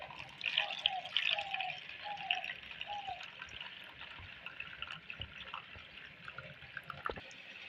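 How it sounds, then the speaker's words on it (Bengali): Rice being washed by hand in water, 250 grams of grain for a cow's-milk payesh, with quiet dripping and trickling water and soft swishing, fairly faint throughout with no talking. "চালটা জল দিয়ে ধুয়ে নেব। জল, ভালো করে চোকুটে ধুয়ে নেব।"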